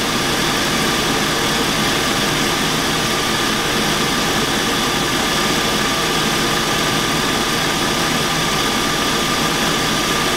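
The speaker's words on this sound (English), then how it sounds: "Compressor's still running." A Chevy engine idles with its A/C compressor running, giving a loud, constant mechanical drone with a dense, steady hum and vibration that never changes across the whole stretch, with no voices.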